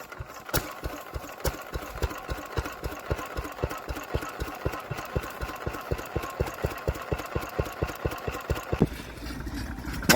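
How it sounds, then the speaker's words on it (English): A Fairbanks stationary engine runs at a vintage rally, its steady rhythmic chuffing beats close and regular for several seconds before the sound abruptly thins near the end. "Straight away, we are into engines. A Fairbanks."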